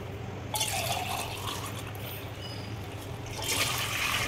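Five glasses of water pour and splash into a cooking pot in two bursts, a steady liquid gush with brief quieter trickling between them.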